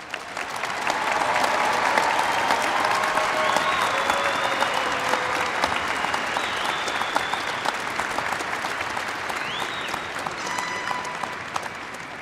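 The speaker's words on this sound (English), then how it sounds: "How about another big round of applause for all of our graduates?" Sustained applause from a large audience at a university spring commencement ceremony for doctoral and master's graduates, a dense even wash of clapping lasting throughout with a few faint cheers.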